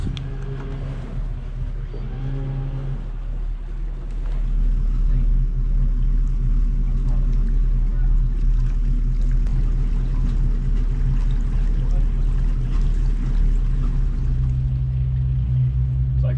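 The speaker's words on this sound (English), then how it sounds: "Let's do the docking without using the wheel. Okay. Just the engines." A yacht's engines rumble low and heavy during docking, building to a louder sustained thrust partway through and holding steady to the end.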